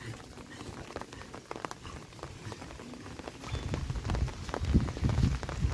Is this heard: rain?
yes